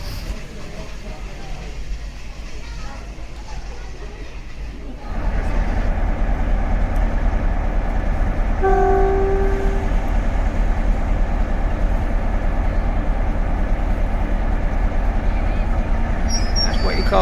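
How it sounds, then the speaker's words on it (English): Class 47 diesel locomotive 47812, hauling empty coaching stock, rumbles close by at a station with a loud, steady low drone that swells in after a few seconds, and a brief horn-like tone sounds partway through. "47812, taking the empty coach in stock to Aldgate sidings for the afternoon."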